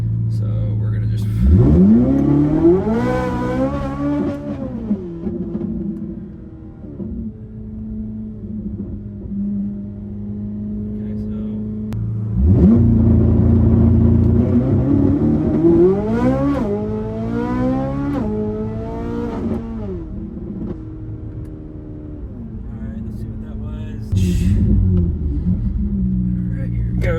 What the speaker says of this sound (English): Quick little burnout here. I'm just going to see if it launches from a dig.